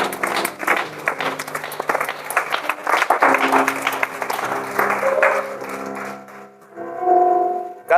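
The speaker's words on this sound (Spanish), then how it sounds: "Denle un fuerte aplauso al Señor." Congregation giving a strong round of applause to the Lord during a church sermon, dense clapping that swells, eases, then ends with a brief musical tone and clattering.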